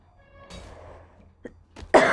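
A person coughs in a short burst, with a faint rough cough partway through and then a loud, harsh cough close to the microphone at the end.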